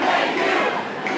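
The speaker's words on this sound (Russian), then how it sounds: "Теперь все стоят, кричат." A protest crowd in New York shouts and yells at police, a dense, continuous roar of many voices close by, steady and loud throughout with no single voice standing out.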